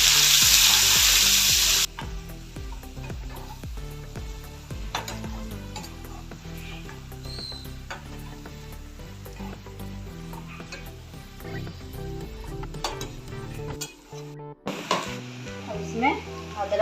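Finely chopped onions hit hot oil with whole spices, black and green cardamom and cloves, in a pan, giving a loud initial burst of sizzling that settles into steady frying with stirring scrapes throughout.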